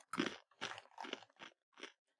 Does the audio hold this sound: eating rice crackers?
yes